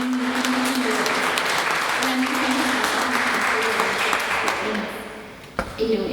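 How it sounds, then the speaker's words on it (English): Loud audience applause at an alumni reunion panel for a 175th anniversary, sustained clapping with some voices mixed in, thinning and fading toward the end before a few final claps. "Can we get another round of applause for Ryan and the team for coming together?"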